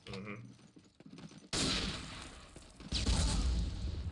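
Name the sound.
gunfire in video game Day of Defeat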